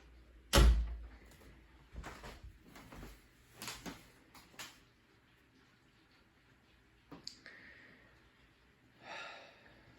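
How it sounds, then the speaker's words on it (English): A door pulled shut indoors, one sharp loud thump near the start, followed by quiet room tone broken by soft breathing, shuffles and small knocks. "Let me close the door."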